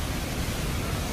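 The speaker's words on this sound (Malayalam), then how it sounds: "ഇത്രയും ഫോഴ്സിൽ വന്ന് വെള്ളം വന്ന് വീഴുന്ന കണ്ടില്ലേ" Water of Athirapilly waterfall in Kerala crashing down with force, a dense, loud, unbroken roar filling the whole short stretch.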